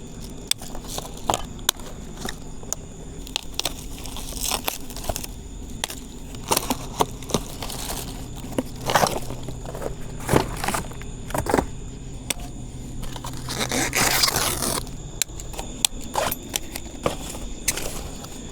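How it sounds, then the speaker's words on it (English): Zip ties and foam packing come off a newly unboxed Vitilan H5 dual motor ebike in scattered sharp snips, clicks and soft plastic rustles, quiet and close, with no talking. "We've got a lot of zip ties and foam pieces to remove."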